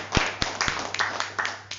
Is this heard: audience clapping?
yes